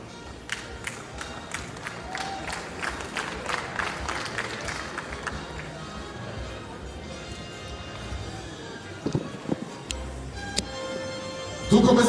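An audience at a Rwandan celebrity event applauds two popular film actors, with crisp scattered claps early that thin out into crowd murmur, then a few louder knocks near the end.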